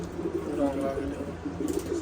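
Pigeons kept outside coo in soft, low, repeated phrases, fairly close, with a steady murmur of background noise and possible voices around them.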